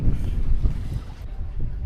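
Wind buffets the microphone on Tumbak island in Sulawesi, a loud low rumbling roar that rises and dips in gusts with no talk.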